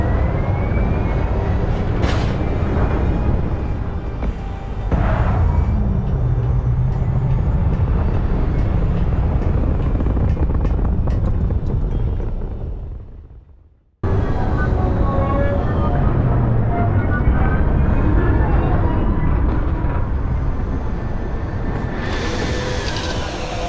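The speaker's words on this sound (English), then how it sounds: "All thrusters firing." Spaceship thrusters firing in the game Starfield give a loud, steady roar with a rumbling low end. The roar cuts out briefly, then comes back just as strong.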